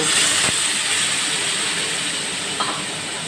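Hot water poured into a cooking pan of potato curry, giving a steady loud hiss and bubbling wash that holds throughout with a couple of faint clicks.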